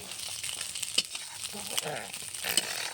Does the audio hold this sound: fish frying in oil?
yes